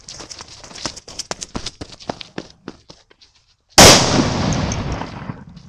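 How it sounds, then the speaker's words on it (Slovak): A Dumbum 5G medium firecracker goes off in one loud, sudden blast that rings out and trails off slowly. Before it, a run of sharp clicks and small pops is heard. "Tak teraz môžeme ísť na strednú petardu, to je Dumbum 5G originál."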